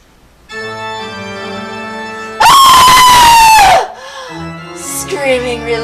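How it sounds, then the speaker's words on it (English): A loud, piercing human scream bursts out for just over a second over a sustained musical backdrop, followed by fainter shouting and cries as the music continues. "Screaming relaxes me so."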